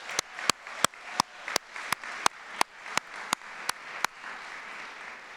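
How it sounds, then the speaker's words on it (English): At an evening equity awards ceremony, an audience applauds in thin, evenly spaced claps, about a dozen sharp beats in a steady rhythm before trailing off, with no voices. "let's give her a round of applause"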